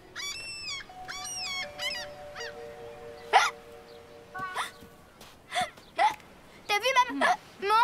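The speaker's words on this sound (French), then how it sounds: "Mais dis donc, tu as un sacré hoquet." A cartoon cat at the beach has a bad case of hiccups, with several sharp, sudden hiccup bursts spread through the clip, mixed with high, squeaky cartoon voices and cries.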